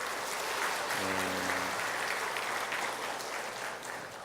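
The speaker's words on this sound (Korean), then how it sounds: "우리 격려의 박수하겠습니다." A church congregation applauds steadily, a dense, even wash of clapping that holds at a constant level throughout.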